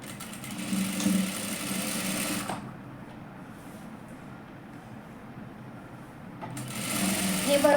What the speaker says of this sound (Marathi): इथून शिलाई मारून घेणार.